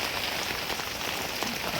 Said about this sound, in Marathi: हे बघा हवा पण येते आणि पाऊस पण येते.